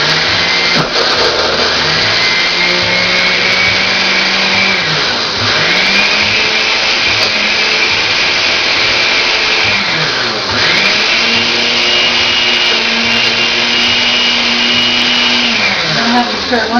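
A blender whirs loudly and continuously, its motor pitch dipping and recovering several times as thick tomato contents churn.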